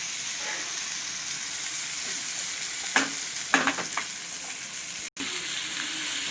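Steady sizzling of vanjaram (seer fish) pieces frying in hot oil, with a few sharper crackles and pops near the middle, close up and with no talking.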